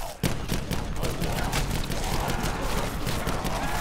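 Single-fire gun shots in the video game Black Ops 4 Zombies: a sharp initial report, then a run of repeated separate shots over a dense, noisy game soundscape.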